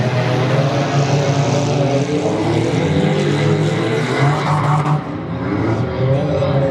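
Demolition derby cars race hard around a track at a Michigan event, engines roaring loudly and continuously with layered revving and a brief skid-like texture, no talk heard over the din.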